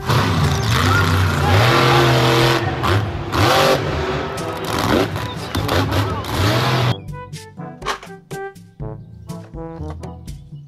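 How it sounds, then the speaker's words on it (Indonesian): Toy monster truck engine revving in a loud, gritty roar for roughly seven seconds, followed by a quieter stretch of tonal music-like sounds. "Mobil, truk, monster."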